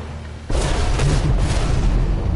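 Tank cannon shot in World of Tanks, Cold War multiplayer mode: one heavy booming blast that hits suddenly and rolls on as a loud, dense rumble with no pause, with no voices over it.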